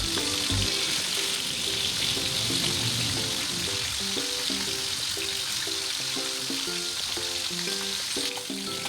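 Bata fish frying in hot oil, a continuous bright sizzle heard under tonal music that plays throughout, with no talking.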